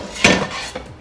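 Metal frying pans knock and clatter together as they are pulled from a kitchen cupboard, a short, loud, close burst followed by a fainter second clank.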